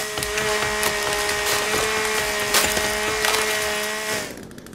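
A chainsaw in the survival game The Forest bites into wood with a steady, loud buzzing drone full of splintering crackle, running continuously for about four seconds before cutting off abruptly, with no voices.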